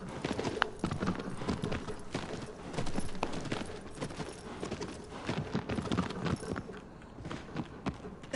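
Steady clip-clop of horse hooves walking at an even pace in the video game Shadow of the Colossus, continuous and moderately loud against a busy background.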